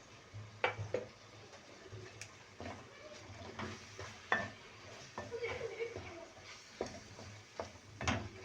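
Kefta being stirred in a pan with onion, a soft sizzle under irregular scraping and clinks of a utensil against the pan, close and fairly quiet.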